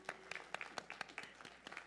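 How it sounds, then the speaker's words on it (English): A university commencement audience claps for parents and loved ones, a quiet, distant patter of individual hand claps from a modest crowd. "Let's stand up and give them a round of applause."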